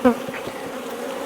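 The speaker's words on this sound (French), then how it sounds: "elle est blindée d'abeilles" Honeybees hum in a steady, close buzz inside a wintering hive packed with bees, one brief louder drone at the start, no voices over it.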